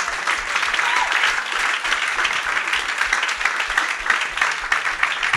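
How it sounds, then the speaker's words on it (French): Applause from a congregation during a church service, a steady, dense wash of many hands clapping that holds evenly throughout. "On acclame aussi, non?"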